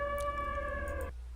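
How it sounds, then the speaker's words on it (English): A steady, held siren tone from the Black Ops 3 Zombies Origins Easter egg cutscene sounds for about a second, then cuts off abruptly. "That's the same exact siren that we heard."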